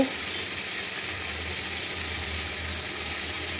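Onion and garlic fry in a pan with a steady, continuous sizzle, close and fairly loud, holding evenly without pause and with no voices.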